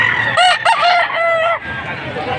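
A rooster at a poultry sale in Padre Garcia, Batangas crows loudly and close, one long wavering cock-a-doodle-doo, with crowd noise from the market behind it.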